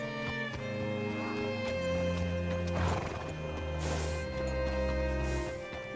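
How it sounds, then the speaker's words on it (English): Horse hooves clip-clop alongside a neigh in Red Dead Redemption 2, steady hoofbeats with a whinny rising midway over a continuous in-game music bed and ambience. "Hitch your horse up here."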